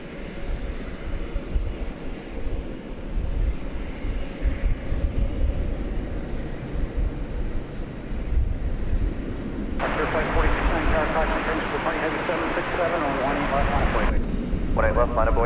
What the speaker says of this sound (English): hot dog plane ready to take off for Cincinnati